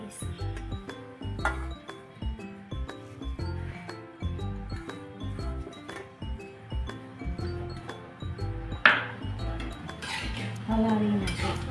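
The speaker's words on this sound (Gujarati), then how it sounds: "હલાવી નાખીશું." A pot of vegetable moong dal topped with coriander is stirred. Quiet, irregular spoon scrapes and clinks against the metal pot grow busier and louder toward the end.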